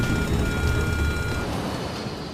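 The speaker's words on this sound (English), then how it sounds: "An alarm warns the pilots something is going wrong." Cockpit warning alarm aboard an MD-82 airliner during a takeoff with flaps not extended, a steady electronic tone sounding continuously over loud engine and cabin rumble.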